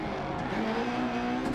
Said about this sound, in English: You get a bit of the noise of the tire slip